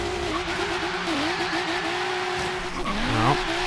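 Toyota Supra MKIV and MKIII cars drag racing in the video game Forza Horizon 3: a loud, steady engine drone that shifts pitch as gears change, with a brief tire squeal near the end.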